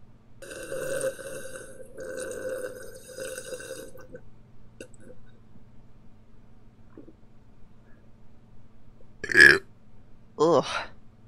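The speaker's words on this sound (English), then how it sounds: "Now that was a burp." A loud, gurgling human burp near the end, preceded by faint muffled sounds and a quieter belch just after.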